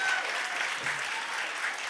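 Steady applause from a live audience at the Voices in Power event in Philly, a dense, continuous wash of clapping that holds for the whole stretch with no voices rising above it.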